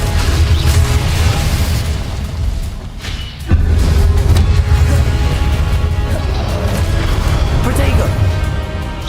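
A Confringo blasting spell in Hogwarts Legacy sets off a loud, booming explosion that rumbles on steadily, with a short dip before a second heavy blast, and voices over the top.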